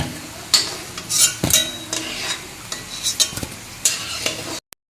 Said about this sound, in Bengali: এদিকে তো আলুগুলো সুন্দরভাবে ভাজা হয়ে গেছে